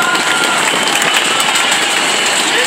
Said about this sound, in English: Let's give a round of applause for Miss Romines, our PTA president.